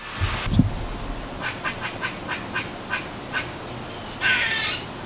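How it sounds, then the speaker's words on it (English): A squirrel's series of short, evenly spaced squeaky chirps rings out, followed by a brief harsher squawk, all faint over quiet outdoor background. "Is that squirrel doing a mating call?"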